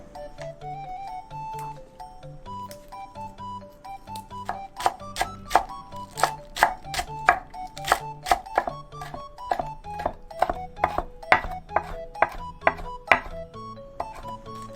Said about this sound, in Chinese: 再来香菜、芹菜切成末状。